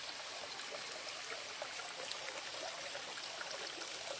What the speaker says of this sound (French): Sort de la petite cascade.